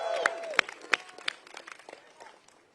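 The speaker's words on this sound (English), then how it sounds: "so let's give him another round of applause" Applause at a Pride flag raising in Washington, D.C., a short burst of scattered outdoor hand claps from a small crowd that thins out and fades within a couple of seconds.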